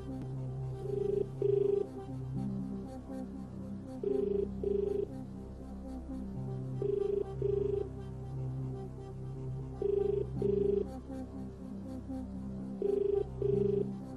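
A telephone rings on and on in paired electronic trills, repeating at a steady interval over a low humming background, with no one picking up.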